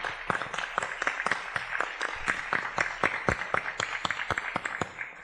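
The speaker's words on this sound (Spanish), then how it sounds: "Quiero que me regalen un aplauso para los tres" An audience claps for three guests at the close of a talk, a small group applauding in a brisk, uneven patter that stays fairly close and steady.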